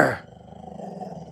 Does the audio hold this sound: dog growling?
yes